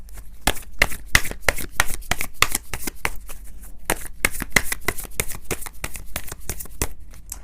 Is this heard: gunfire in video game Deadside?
no